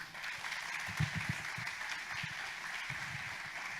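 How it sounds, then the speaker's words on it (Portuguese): Faint, distant congregation clapping at an evening communion service in a Christian church, a soft, sustained patter of hands with a few low thumps mixed in. "Aplauda ao Senhor."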